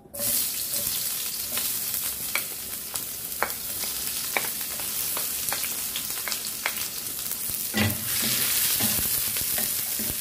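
Onion and garlic sauté in a little cooking oil in a pan, giving a loud, continuous close sizzle with scattered light crackles and an occasional clink of a utensil.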